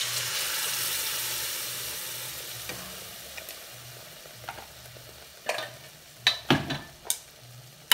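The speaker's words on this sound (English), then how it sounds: "Now I'll be adding the grinded mixture of tomato and onion to this." A ground tomato and onion mixture fries with spices in a pan for butter masala, a soft steady sizzle with occasional louder spatters and stirring clatters toward the end.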